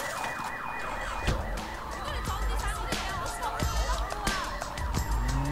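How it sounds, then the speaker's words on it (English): A car alarm blares in the video game Sleeping Dogs, its repeating, warbling electronic cycle running steadily and loudly throughout, with sharp clicks and background bustle layered over it. "The car alarm keeps going."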